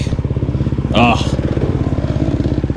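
A KTM 350 XC-F dirt bike engine labors in first gear on a dusty, rocky mountain trail, a steady rapid putter that lasts throughout, with a brief rising rev burst near the middle, close to the rider.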